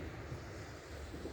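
Ocean waves wash at the shore on a fine day, a steady, dense roar blended with wind buffeting the microphone, with no voices present.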